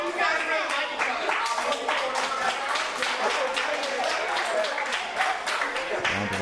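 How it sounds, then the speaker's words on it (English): A wrestling crowd at a main-event match claps steadily, a moderate round of applause with dense overlapping hand claps and some voices underneath. "Round of applause as members of the audience here appreciate the clean break and sportsmanship"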